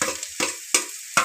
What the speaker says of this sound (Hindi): ये देखिए मिर्ची और अदरक साथ में डाल दिए हैं